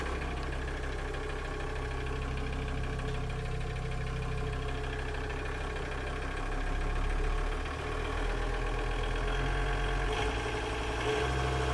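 A VW TDI 100-5 diesel boat engine in an Arvor 215as runs at a steady idle, then the revs briefly rise and settle back. The rumble stays close and continuous, with no talking.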